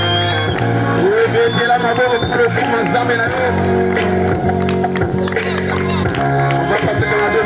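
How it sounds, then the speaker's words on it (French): Gospel rap concert crowd cheering, shouting and clapping continuously and loudly over pounding music, with a voice calling out through the noise. "Acclame très fort pour la gloire de ton Dieu"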